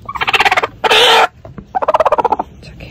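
An egg-bound hen gives loud, close, rapid pulsing calls in two bursts of repeated yelps, separated by a sharp harsh squawk, all without any talking.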